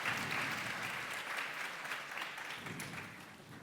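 A crowd applauds panelists at a World Bank Pakistan session, a dense, even wash of clapping from many hands, distant and soft, fading slightly toward the end.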